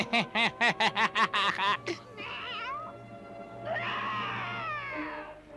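Cartoon cat from The Smurfs letting out a run of rapid, loud rhythmic meows, then drawn-out wavering yowls, with cartoon voices and laughter around it.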